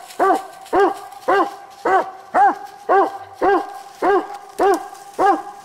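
Bluetick coonhounds bay at a raccoon up a tree, loud close barks in an even rhythm of about two per second, each a drawn-out, resonant bawl, with no talk over them.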